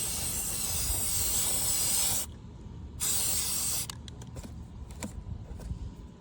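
Rust-Oleum automotive 2-in-1 primer sprays from an aerosol can in two loud, steady hissing bursts, separated by a short pause and followed by a few quick, fainter spritzes.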